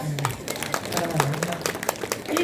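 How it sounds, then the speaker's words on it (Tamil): Audience clapping at a village debate stage show, a steady patter of hands beneath talking voices for a couple of seconds. "கைத்தட்டுங்க"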